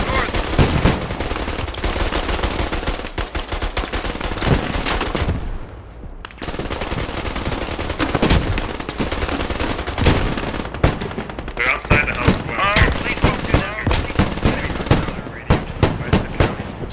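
An MG3 machine gun fires in a video game battle, loud sustained bursts and rapid shot strings running almost continuously and mixed with other gunfire, with only a brief lull near the middle.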